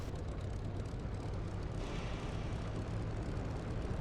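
Spitfire LF IX piston engine idling while taxiing in the DCS flight sim, a steady, continuous low rumble with broadband airy noise throughout, no talk over it.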